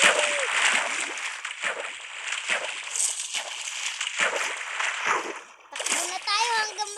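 Children splash and jump into water outdoors, with repeated bursts of splashing and sloshing spread through the stretch alongside excited kids' voices and chatter.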